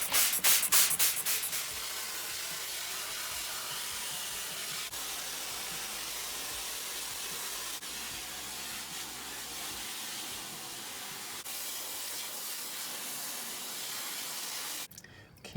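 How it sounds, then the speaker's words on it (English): Water sprayed from a bottle onto a screen printing screen before washout, a steady close hiss of fine spray with soft rubbing sounds, running continuously without talk. "I just spray it all with some water first before I expose it to more light."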